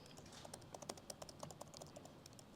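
Fingers type on a computer keyboard, a quick uneven patter of soft clicks over faint background hiss with no talking.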